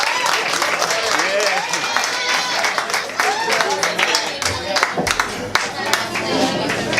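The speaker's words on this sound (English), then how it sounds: "Please give a warm applause for my fellow countryman" A stand-up comedy audience applauds as a comedian comes on stage, loud, crowded clapping and cheering running throughout, with voices mixed in.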